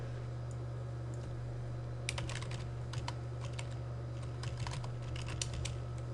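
Typing on a computer keyboard beside an Instron tensile testing setup, quick clusters of faint key clicks starting partway in over a steady low electrical hum.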